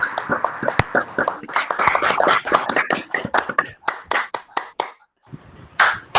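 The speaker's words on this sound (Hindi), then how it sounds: "just give a round of applause for yourself" Classroom audience applauding together during a lecture, a dense burst of many hands clapping that thins into scattered claps before a final brief flurry.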